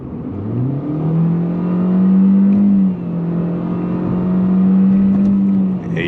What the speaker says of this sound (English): But let's do a quick little acceleration.